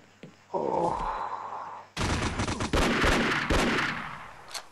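Sniper gunfire in the mobile shooter game Crisis Action: a sharp, loud shot ringing out, followed by a dense burst of gunfire with several hard bangs over a few seconds, each trailing into reverberation.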